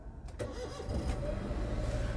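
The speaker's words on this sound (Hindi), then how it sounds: "मैं आपको गाड़ी चालू करके दिखाता हूँ" A Maruti Suzuki WagonR running on CNG cranks briefly and starts, then settles into a steady close idle with no talking.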